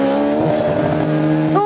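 A racing sidecar outfit at Tonfanau screams past on the track, a brief loud engine howl close by that drops sharply in pitch as it goes away.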